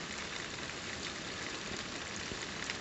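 Steady rain falls outside near a bird feeder, a dense even hiss of drops hitting surfaces, constant and moderately quiet with no voices.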